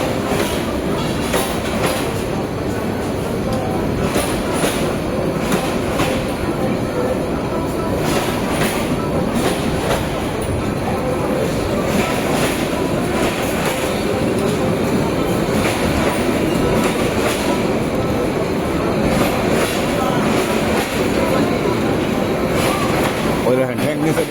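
A train rolls through a railway station in Bangladesh, loud and close, with a continuous rumble, rhythmic clickety-clack of wheels and occasional squeal for the whole stretch. Voices murmur faintly beneath it.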